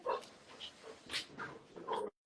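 Dogs whimper and whine close by in a quiet indoor room, several soft, high cries and yips that rise and fall and then cut off abruptly.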